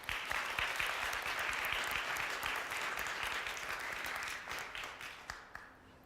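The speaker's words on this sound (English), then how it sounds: "Please clap now if you think that's" Audience at a tech innovation summit clapping to vote for a pitch, dense sustained applause from a large crowd that gradually thins into scattered claps before fading out.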